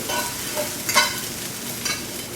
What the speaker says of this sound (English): I like my peppers kind of sauteed like I just did